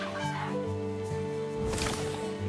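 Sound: ghost chickens clucking in a farming video game

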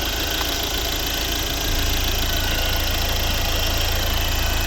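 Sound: Volvo C30 1.6 D2 diesel engine running

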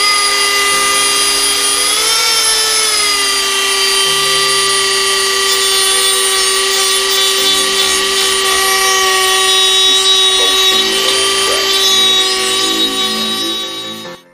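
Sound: grinding down metal shavings on DIY tripod dolly

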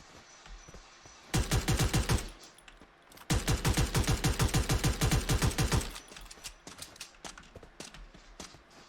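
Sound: gunfire in the video game Free Fire

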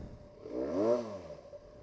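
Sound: Benelli 300 motorcycle engine idling

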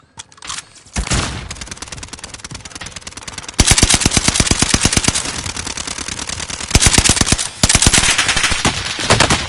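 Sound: gunfire from enemies in a video game

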